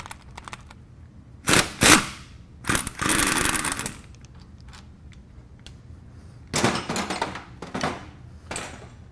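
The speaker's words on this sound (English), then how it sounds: "Now we'll remove the lower bolt." A tool removes the lower caliper bracket bolt on a 2002 Chevy Suburban during hub bearing work, with loud, close rattling bursts of an impact wrench separated by quiet gaps and a few light clicks.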